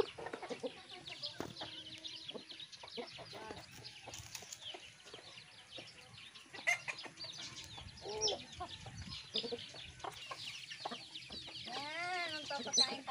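Farm chickens, including a hen, cluck and squawk busily as they are fed in the provinces, with occasional wing flaps. The sound is continuous and fairly faint, with overlapping calls near and far.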